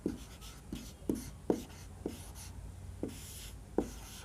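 Chalk or marker writing on a board in a history class, with a few sharp tapping strokes spaced unevenly across several seconds over a quiet room hum.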